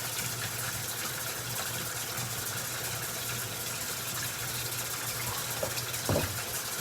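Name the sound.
water pouring into a pan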